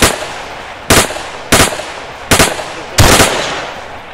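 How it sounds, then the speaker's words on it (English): Gunfire in the Arma 3 Breaking Point game mod: four or five sharp, loud shots come in irregular bursts, each with a brief ringing tail, over a low background hiss and no talking. "someone shooting at us"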